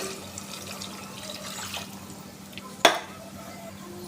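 Water pours into a cooking pot for biryani, a steady soft rush of liquid filling the vessel in a home kitchen, with a single sharp metallic clink partway through.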